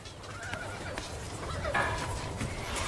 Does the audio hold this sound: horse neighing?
yes